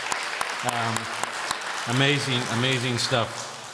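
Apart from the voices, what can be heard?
audience applause for panelists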